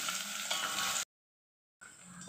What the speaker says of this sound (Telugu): ఆకు ఉల్లిగడ్డ పచ్చిమిర్చి ఇవి కూడా వేయించి బాగా బ్రౌన్ కలర్ వచ్చేసి వేయించుకోవాలి